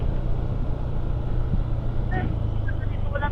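Steady road traffic rumbles on a mountain road trip through Bontoc, Mount Province, a continuous low vehicle drone with a couple of faint horn-like tones, as people chat nearby.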